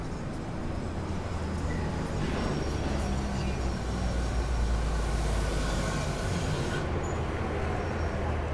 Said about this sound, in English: you love the subway train sound